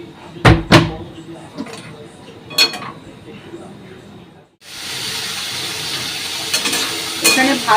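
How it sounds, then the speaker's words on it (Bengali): Cauliflower frying in hot oil in a wok gives a steady, loud sizzle that starts abruptly partway through and holds to the end, after a few sharp clatters and knocks in a quieter kitchen. "কড়াই গরমও হয়ে গেছে এখানে তেল দিয়ে দিই ফুলকপি ভাজার জন্য"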